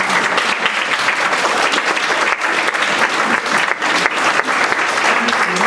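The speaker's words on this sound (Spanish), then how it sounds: "Un fuerte aplauso, por favor" Audience applause fills a lecture hall after a talk on genetics and heredity, steady and dense clapping sustained for several seconds, loud and close with no break.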